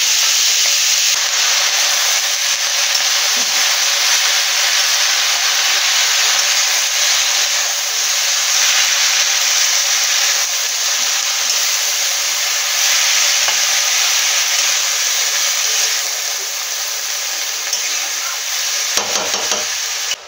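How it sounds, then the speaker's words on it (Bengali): Spinach frying in hot oil left over from frying prawns, a steady bright sizzle that runs continuously for the whole stretch, close and fairly loud with no talk, easing slightly near the end. "এই তেলেতেই পালং শাকটাও ভেজে নেব"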